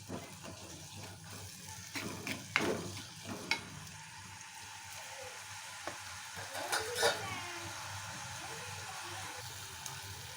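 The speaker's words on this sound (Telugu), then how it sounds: "ఇవి మెత్తగా మ్యాష్ అయ్యేదాకా కలుపుకుంటూ ఉండాలి" Tomatoes and potato curry being stirred in a pan, with a soft steady sizzle and several scraping spoon strokes standing out near the middle and end, no talking.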